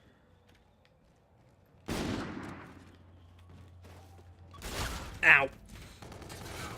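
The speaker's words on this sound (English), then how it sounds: "Just not expecting a shotgun." Shotgun blasts in a Call of Duty match, a heavy burst near two seconds and another around five, loud and close amid game noise, with a brief pained exclamation from a player.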